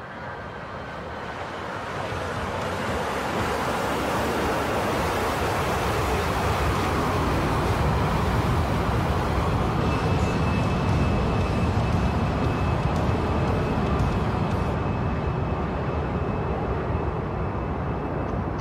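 Steady, loud broadband roar of an A-10 jet's engines heard from the cockpit in a flight simulator, sustained and unbroken throughout.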